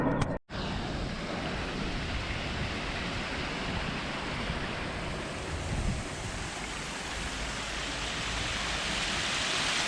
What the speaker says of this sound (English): Nice little waterfall here.